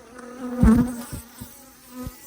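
Bees buzz close by with a steady hum, one loud pass swelling briefly and a few fainter flybys following.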